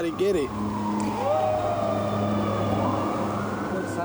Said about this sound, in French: Soudain, des sirènes hurlent à quelques rues de là.